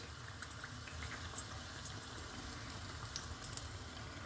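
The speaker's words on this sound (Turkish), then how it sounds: "Fazlalığını şu şekilde alıyoruz ve kızmış yağımızın içerisine bırakıyoruz" Spinach fritters sizzle in hot oil, a faint, steady crackling hiss with scattered small pops running throughout and no voices.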